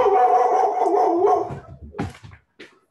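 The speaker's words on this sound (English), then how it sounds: "Sorry, my dog." A dog gives a loud, drawn-out howl, then breaks into a short run of quick barks and yips that ends in one last brief yelp.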